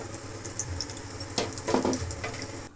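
Chilli fritters (mirchi bajji) deep fry in hot oil with a continuous bubbling sizzle, and a louder crackling burst comes as fresh batter-coated chillies drop in partway through.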